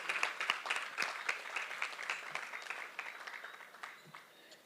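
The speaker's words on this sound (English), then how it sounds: "Ladies and gentlemen, I want to give a big round of applause to Director Alison Roach-Plummer" An audience at a youth showcase and appreciation awards ceremony claps for an honoured director, giving steady, moderately loud applause that slowly thins out over a few seconds.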